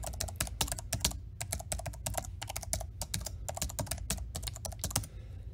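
An email address is typed on a computer keyboard: a rapid, steady stream of close keystrokes with brief uneven pauses, with no voice over it.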